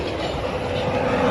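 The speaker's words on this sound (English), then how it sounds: "Can hear the train banging now." A subway train rumbles and bangs along the rails in a steady, loud, dense roar with faint wheel squeal, heard close up in the tunnel with no voices.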